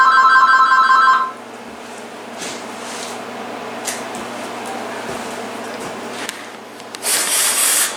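An AT&T TL92328 cordless phone handset gives a short electronic ring for about a second, then cuts off, leaving quiet room noise with light handling rubs and clicks.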